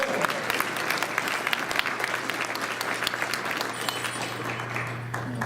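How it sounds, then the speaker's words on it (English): Steady audience applause at a tribal economic outlook conference, honoring a dancer once ranked sixth in the world; dense, even clapping fills the room for several seconds with a faint low hum beneath. "Let's give him a big round of applause."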